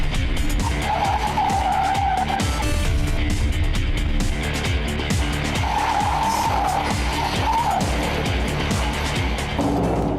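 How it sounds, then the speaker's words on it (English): A rally car on an off-road rally school course tears through a flying hot lap, engine roaring hard with tyres skidding and squealing in bursts, loud and close throughout with barely any talk. "your instructor gets behind the wheel to show you how it's really done in a flying hot lap"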